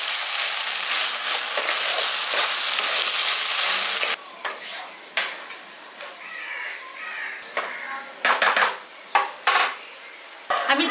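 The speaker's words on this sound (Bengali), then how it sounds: "এবার সবগুলোকে ভালো করে মিশিয়ে দিচ্ছি।" Date, mango leather, raisin and cashew chutney with tomato sizzles steadily in a pan for a few seconds, then quieter stretches are broken by irregular scraping and clattering strokes of a spoon stirring the thick mixture.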